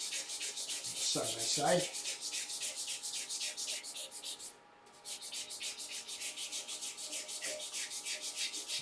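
Sandpaper worked by hand over a turned wooden bud vase makes a fast, rhythmic rasping that repeats steadily and stops briefly partway through, while someone speaks a few words under it.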